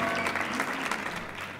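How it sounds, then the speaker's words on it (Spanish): Studio audience applause for a guest singer on a TV show's special: dense, continuous clapping throughout, fairly loud and unbroken, with no voices on top. "Fuerte el aplauso para nuestra invitada de hoy"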